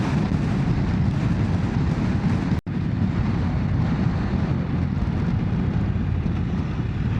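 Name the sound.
strong blustery wind on Gran Canaria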